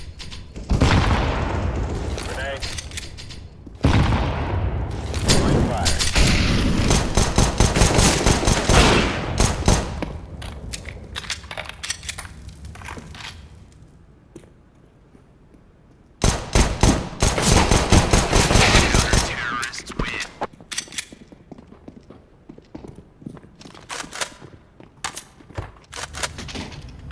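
Rapid CS:GO gunfire from bots testing weapons on the LAN Office map, with dense automatic bursts and single shots filling two long stretches separated by a quieter lull, loud and close with no talk.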